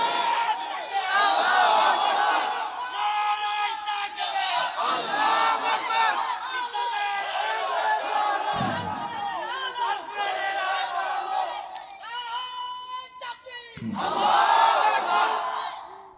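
A large crowd of young men roars a takbir chant in unison at an Islamic sermon gathering, loud and sustained, with repeated surging shouts.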